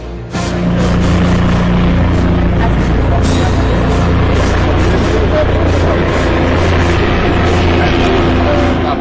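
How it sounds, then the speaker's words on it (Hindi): A sightseeing helicopter over Delhi fills the scene with a loud, steady rotor and engine roar that holds constant throughout, close and dominant with no pauses. "देख सकते हैं कि वो है हेलीकॉप्टर जो तमाम वो दिल्ली दर्शन कराएगा"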